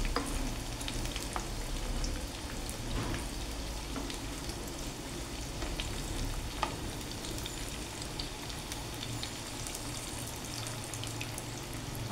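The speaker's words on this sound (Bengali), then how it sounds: "এগুলোকে লো ফ্লেমে আমি এখন এগুলোকে ভেজে নেব।" Small balls of food frying in oil over a low flame, a steady soft sizzle running throughout with occasional light clicks of turning, no voices.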